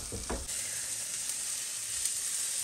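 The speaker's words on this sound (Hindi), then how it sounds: "और अथर भी मसाला भून रहे हैं।" Masala spices frying in a pan on a home stove while Dahi Bhindi Masala is cooked, a steady close sizzle throughout with a couple of brief stirring or scraping bumps near the start.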